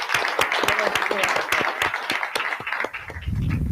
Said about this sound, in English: I think we should have a round of applause for the entire play.